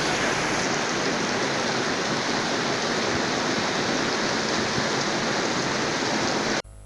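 Heavy torrential rain pours down in Nkongsamba, Cameroon, in a dense, constant roar that stays loud and unbroken before cutting off abruptly at the end.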